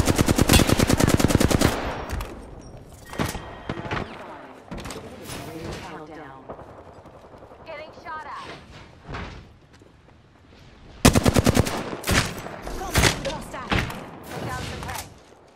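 Automatic weapon fire in the battle royale game Apex Legends, with loud rapid bursts at the start and again near the end, broken by single shots, impacts and quieter in-game effects in between.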